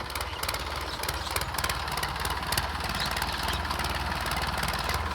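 A diesel tractor engine idles close by in a farm field, a steady low rumbling chug with a rapid knocking rhythm and no voices.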